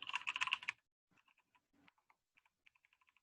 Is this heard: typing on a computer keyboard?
yes